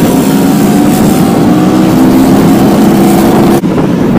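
Vespa Corsa scooter engine runs at a steady idle, a loud, close, continuous drone with a low buzzing hum and no change in pace until a brief dip near the end.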